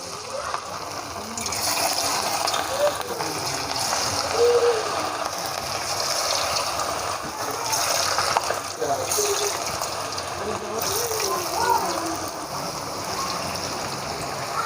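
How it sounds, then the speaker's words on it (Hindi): Pakoras sizzling in hot ghee over a medium-low flame, a steady bubbling crackle of frying batter that runs throughout, fairly close and without talk. "अब इसमें वो जो पकोड़े हैं वो डालेंगे।"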